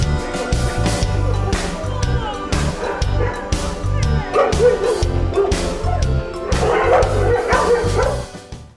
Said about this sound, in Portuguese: Tá aí a cachorrada se dando muito bem.